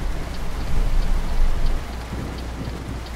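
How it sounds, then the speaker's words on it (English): Steady, dense rain hisses continuously in the truck-driving video game Euro Truck Simulator 2 at night, with a low rumble underneath and no voices. "And it's raining."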